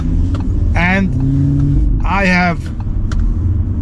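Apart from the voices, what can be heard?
Audi RS3 third generation car engine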